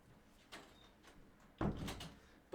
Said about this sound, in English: Gotta close my door.